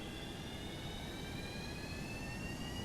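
Jet engines on a Boeing 737-200 in X-Plane 11 spool up, a steady roar with a rising whine that climbs gradually as throttles advance, heard alone without talk.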